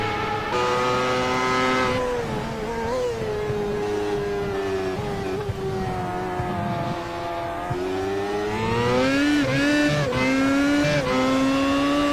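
Williams race cars running nose to tail on a circuit, a loud continuous engine howl close by that falls through downshifts and climbs again on acceleration, with squealing tires and another car's note layered in near the end.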